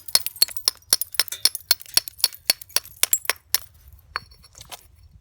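A hammerstone strikes the edge of an obsidian slab in a quick series of sharp, glassy clinks, about twenty close, bright taps in steady rhythm with a brief pause before a few final strikes.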